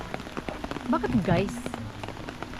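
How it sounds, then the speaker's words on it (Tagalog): Heavy rain pours steadily in a flood-prone place, a dense hiss of drops hitting surfaces throughout, with voices talking briefly over it. "Sobrang lakas ng ulan."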